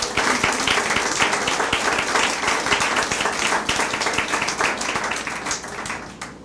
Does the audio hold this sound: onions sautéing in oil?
no